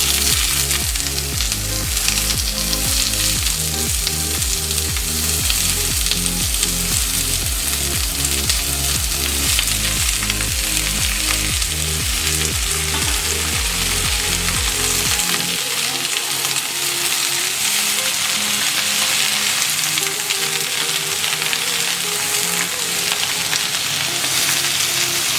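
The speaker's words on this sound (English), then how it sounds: "Now I'll add a little olive oil to saute my veggies." Onions and capsicum sauteing in olive oil give a steady, bright sizzle for the whole stretch, with background music playing beneath it for the first half.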